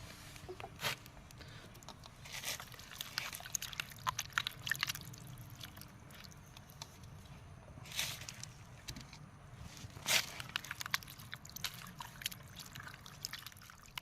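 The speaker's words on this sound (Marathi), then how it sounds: "हे बघा असं नीट एकदम साफ धुवून घ्यायचं आहे असंच सगळे चिकन धुवून घेतो" One kilogram of raw chicken is washed in water at a village riverside. Quiet splashing, trickling and dripping come in irregular bursts, with faint background hum in between.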